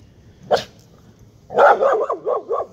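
Dogs barking nearby: one sharp bark, a pause, then a quick run of five or six loud barks in an excited, uneven rhythm.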